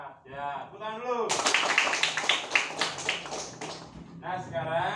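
Classroom of children clapping hands together, a dense burst of claps rising suddenly and lasting a few seconds, bracketed by a teacher's voice before and after.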